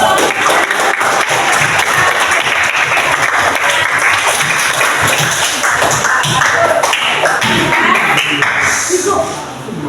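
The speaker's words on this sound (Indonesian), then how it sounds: "beri tepuk tangan untuk" Applause from students in a classroom lesson, loud and dense clapping with scattered taps and thuds lasting about ten seconds, then quickly dropping off at the end.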